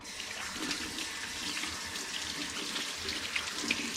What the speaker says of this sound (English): I shouldn't have left that water on.